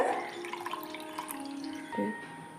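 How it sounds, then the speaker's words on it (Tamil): About a cup of milk pours over boneless chicken pieces in a bowl, a close liquid splashing and trickling that runs through the clip with a brief gurgle near the end. "ஒரு கப் அளவுக்கு பால் சேர்த்துக்கோங்க"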